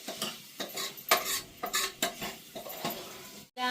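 Stirring of food frying in a pan in a village kitchen: irregular scraping strokes of a utensil against the pan over a soft sizzle, close by, ending in a brief pause.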